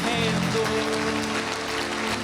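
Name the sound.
congregation applauding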